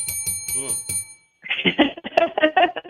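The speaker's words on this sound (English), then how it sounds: "Definitely get a bell." A bell rings in several quick, bright strikes with shimmering ringing tones, then stops as a person begins talking.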